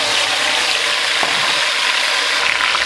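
Chopped fresh tomatoes hit cooked onions in a hot pan for a Cameroon-style kale dish, giving a loud, steady sizzle and crackle with a faint scrape of stirring.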